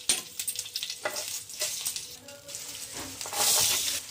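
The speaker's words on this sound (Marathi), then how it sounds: "आपण पॅन वरती जिरं थोडं फ्राय करून घेऊ व मोहरी थोडी फ्राय करून घेऊ आणि कढीपत्ता थोडं टाकू." Soft crackling sizzle of cumin, mustard seeds and curry leaves frying in oil in a pan, close and continuous with light stirring scrapes and a hissing swell near the end.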